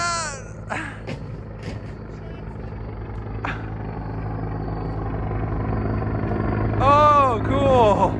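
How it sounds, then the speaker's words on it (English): A CH-53 helicopter flies over with a steady, broad rotor and engine rumble that builds louder toward the end, while birds chirp briefly in the foreground. "the helicopter came over and now it's coming over again."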